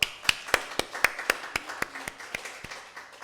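Steady, evenly spaced claps, about a dozen sharp hand claps at a moderate pace, fairly soft and slightly distant.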